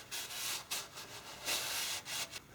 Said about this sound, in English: Brake clean on a rag and give them a rub.